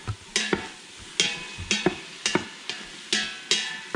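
Onions being stirred in an Instant Pot for chicken noodle soup: a spoon scrapes and clacks against the pot in quick, uneven strokes, close and fairly loud, with a soft sizzle beneath and no talking.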